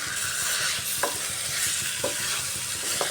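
Potatoes, pointed gourd and chickpeas stir-fry with spices in a loud, steady sizzle, while a spoon scrapes the pan about once a second in a regular rhythm.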